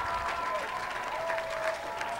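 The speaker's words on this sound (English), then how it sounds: "And look at the crowd, they are loving it." Crowd applauding and cheering at a Toronto Rush versus Philadelphia Phoenix ultimate frisbee game, a steady dense roar of clapping and shouts filling the whole stretch at even loudness.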